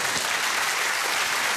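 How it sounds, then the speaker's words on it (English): A studio audience on a comedy panel show gives a brief, tentative round of applause, a dense even patter of clapping that stays at a moderate level throughout. "That's the most uncertain round of applause."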